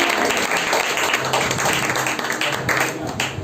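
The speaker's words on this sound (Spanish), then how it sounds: "Un aplauso fuerte a Jesucristo" Church congregation applauding loudly for Jesus Christ during a service, a continuous dense wash of hand clapping filling the room at steady volume throughout.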